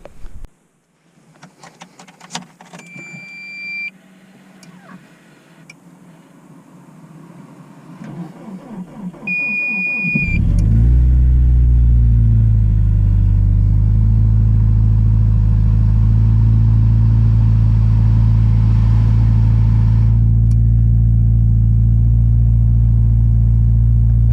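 A car engine is started and then idles steadily and loudly while warming up, after a stretch of beeps, clicks and workshop handling noises.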